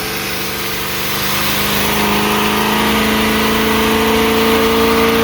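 A motorhome engine runs steadily in a continuous drone, its revs and loudness rising over the first couple of seconds and then holding strong as the vehicle drives along.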